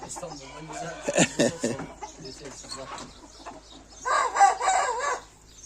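A rooster crows loudly nearby, a long drawn-out call near the end, with someone speaking earlier and hens clucking faintly.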